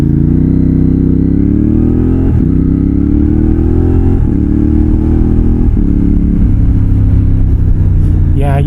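An X-Cape 1200 adventure motorcycle's exhaust roars loud and close while riding, with a throbbing engine note that rises and dips with several throttle changes.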